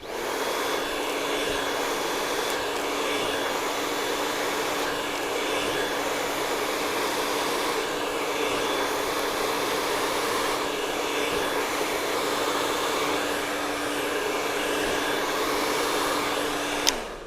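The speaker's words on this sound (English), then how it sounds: "we're going to blow dry this with this technique" A hair dryer runs continuously while hair is blow dried with a vent brush, a loud steady whirring hum with a constant whine, shifting slightly as the airflow moves, then cutting off at the end.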